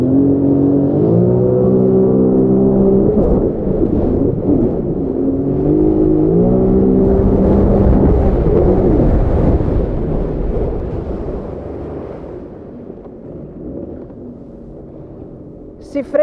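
A 2020 Sea-Doo RXT-X RS jet ski engine revs hard at high speed, its whining pitch climbing and dipping as the craft turns, with wind buffeting a close microphone before the roar eases toward the end.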